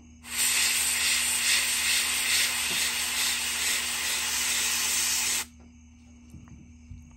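An airbrush sprays paint through a stencil onto a fishing lure: one continuous loud, close hiss lasting about five seconds that stops abruptly, followed by faint handling taps.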